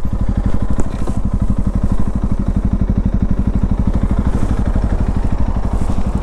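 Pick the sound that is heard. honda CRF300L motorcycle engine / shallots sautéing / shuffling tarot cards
honda CRF300L motorcycle engine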